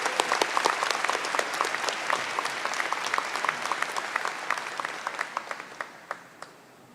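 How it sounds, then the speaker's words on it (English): Enthusiastic applause from a large audience at the SUNY Brockport 2022 undergraduate commencement ceremony, dense and steady before thinning into scattered individual claps as it fades out. "One more round of applause for Matthew Tu."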